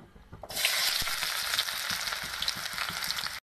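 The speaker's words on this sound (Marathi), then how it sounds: "आता मी घेते ह्यात कांदा टाकून." Chopped onion dropped into hot oil in a home kitchen pan bursts into a loud, steady sizzle after a brief quiet start, frying continuously with faint scrapes and pops underneath.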